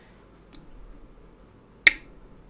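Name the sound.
GEC slip joint pocket knife blade snapping shut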